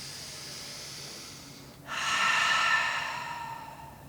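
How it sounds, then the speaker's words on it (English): Deep breathing during a seated yoga practice: a soft, slow inhale followed by a fuller, breathy exhale lasting a couple of seconds, close and quiet with no talk. "Give yourself 3 deep breaths here."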